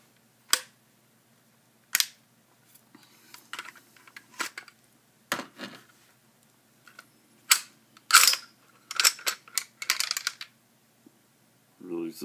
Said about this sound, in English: Pull the bolt back.